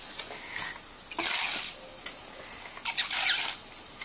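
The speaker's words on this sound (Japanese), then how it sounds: "シャワーかけてみよっか。" A shower head sprays water into a bath where a hamster bath-ball toy is fizzing, with two short hissing bursts of spray separated by quieter dripping, fairly soft and close.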